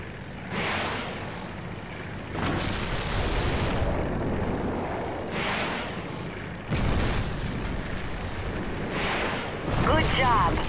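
A secondary weapon on a plane in Crimson Skies fires at abandoned gun towers. Several heavy, booming blasts come a few seconds apart over a steady drone, loud and close.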